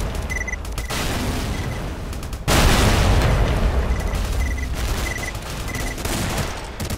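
In S.T.A.L.K.E.R., a fight against a wave of mutant dogs brings dense, loud gunfire and heavy explosions. Rapid automatic bursts run nearly without pause, with a big blast surge partway through.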